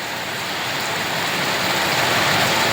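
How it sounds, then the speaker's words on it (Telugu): Heavy rain falling near the Tirumala hills, a dense, continuous hiss that stays steady and fairly loud throughout, with no voices. "ఇలా వర్షం పడుతుంది మాకైతే"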